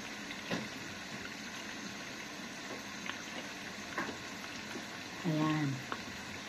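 French fries cook in oil with a faint, continuous bubbling sizzle and a few small clicks, while a voice speaks briefly near the end.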